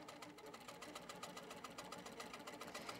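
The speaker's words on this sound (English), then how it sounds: "It will stitch these last two petals and then stitch over the top." An HQ Pro-Stitcher computerized quilting machine stitches petals, its needle producing a fast, even mechanical chatter with a steady motor hum, continuous and fairly faint, with no voices.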